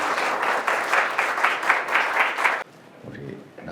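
A church congregation claps steadily and densely for a couple of seconds, then the applause cuts off abruptly, leaving quieter room sound.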